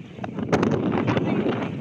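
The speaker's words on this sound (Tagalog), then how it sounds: "Malakas ang hangin." Strong wind buffets the microphone at a beach in Calamba, Laguna, a steady roaring rush with a few brief gusts, no voices.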